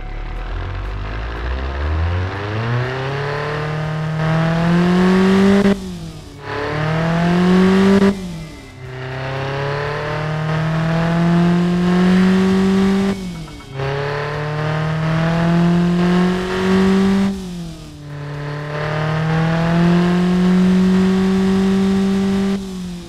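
A tuned car engine, rebuilt from a stock unit, revs loudly and close in four long pulls that each climb in pitch, with short drops and gaps between the pulls.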